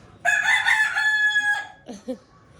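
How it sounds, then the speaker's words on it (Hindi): A rooster crows once in a long, loud, nearby cock-a-doodle-doo, followed by a couple of brief clucks against a quiet rural background. "ये भी सारे मुर्गे अजानें दे रहे हैं"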